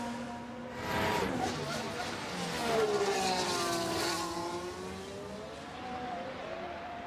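Formula 1 cars in the F1 Manager 24 game, Bahrain circuit, fire up and pull away from the pits. Rising and falling engine whines swell and then fade at a moderate distance, with a voice talking over them.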